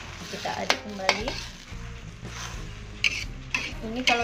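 A utensil stirs tuna with green chili, water and salt in a frying pan, giving scraping strokes and clinks over a steady sizzle, close and moderately loud, with a few sharper metallic taps.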